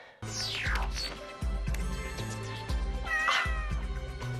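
A cat, a hologram in the Disney Channel movie Pixel Perfect, meows several times in drawn-out, wavering cries set against rhythmic music.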